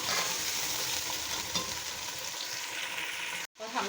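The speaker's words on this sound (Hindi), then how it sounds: "इसके साथ ही हम ये सारा चिकन ऐड कर देंगे और खूब अच्छी तरह फ्राई करेंगे" Chicken fries for biryani masala in a pan, a steady close sizzle with light stirring scrapes that cuts out abruptly near the end before resuming, no talking.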